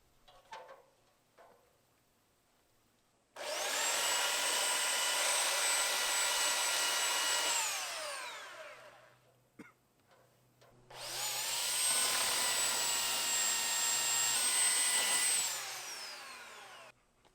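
A power sander grinds across the tops of wooden posts for a playground build in two long, loud bursts of about four seconds each, each one spinning up and then winding down, with a quiet pause between them.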